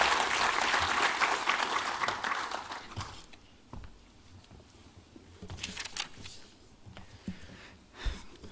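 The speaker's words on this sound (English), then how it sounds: "Let's give them another round of applause" Audience applause after a presentation, a loud sustained burst of clapping that fades after about three seconds into scattered claps and murmurs, with a brief final clap flare near the end.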